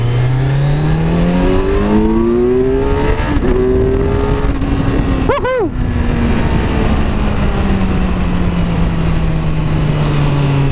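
A motorcycle pulls hard through second and third gear, its engine note climbing and dropping at each shift and then holding a loud steady drone, with a brief whine of a passing vehicle partway through.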